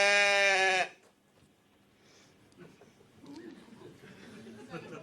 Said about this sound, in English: Wrong, it's a goat.